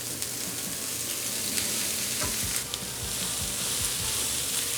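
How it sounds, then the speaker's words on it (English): Fajita vegetables sautéing in oil on a Vulcan Versatile Chef Station pan, a bright continuous sizzle with occasional low knocks and stirring sounds, close and without speech. "I'm going to start to saute my fajita vegetables"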